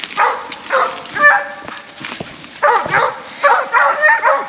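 Hunting dogs in Louisiana barking at an animal up a big tree: several excited barks and yips in bursts at moderate distance, with someone talking between them.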